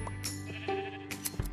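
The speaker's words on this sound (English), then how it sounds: "now we need to go find ourselves some sheep" Sheep bleating in the video game Minecraft, a few short nasal bleats at moderate level over a steady game background tone, with no talking.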